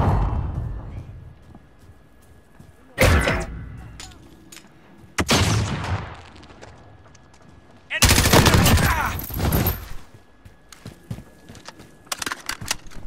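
Gunfire in the video game Modern Warfare: loud bursts of rapid shots and explosive blasts come in several separate volleys, with quieter lulls and scattered pops between them.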